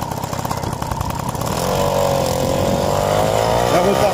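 Orange Motobecane moped engine restarting and settling into a steady, close buzzing run, with the revs climbing and holding after the first moments.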